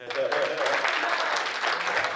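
Audience applause at a Hindi kavi sammelan poetry event, a short burst of dense clapping from the crowd, moderately loud and continuous.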